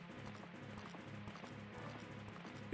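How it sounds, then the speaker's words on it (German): Epona, a horse in The Legend of Zelda: Majora's Mask 3D video game, gallops in a steady rapid clip-clop rhythm of hoofbeats, quiet and continuous. "Jetzt will er auch noch mit dem Pferd entkommen."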